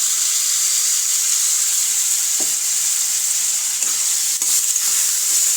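Bottle gourd cooking in oil with turmeric, salt and a little water, a steady bright sizzle and hiss with a few light stirring scrapes, close and continuous, no voices.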